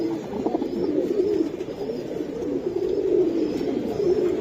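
Baby pigeons (kabutar) in a pigeon market coo in a steady, close, continuous murmur, with soft rolling calls running throughout and no talk.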